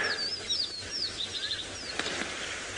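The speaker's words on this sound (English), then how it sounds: "There's quite a few birds calling in the area. We've got the rattling cisticola, who's really going for it this morning" Wild birds call at dawn during a safari drive in the bush, including a rattling cisticola, with several thin, sweeping whistles and chirps repeating up close, plus a brief flutter of wings.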